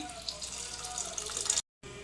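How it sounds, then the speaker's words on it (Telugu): Water poured into a pan makes a brief, steady splashing stream that cuts off abruptly, then resumes faintly. "ఇప్పుడు దీంట్లో వాటర్ పోసుకోవాలి"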